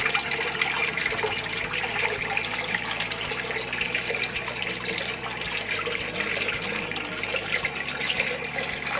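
A home aquarium filter pump pours water through a many-holed outlet, making a steady close splashing trickle with a low pump hum underneath.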